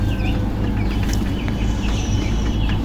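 Eight-day-old broiler chicks peeping and clucking steadily in a brooder pen, with a constant low hum underneath and several small bird calls overlapping throughout.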